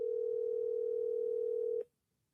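An outgoing phone call gives one long steady electronic ring tone close up, holding for nearly two seconds before cutting off abruptly into silence.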